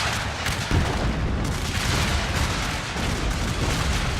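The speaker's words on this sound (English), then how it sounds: "Ooh, artillery's making them pay for it." Artillery fire in the Shogun 2 battle game, dense booming blasts layered over a constant roar of battle noise, loud and busy for the whole stretch with no speech.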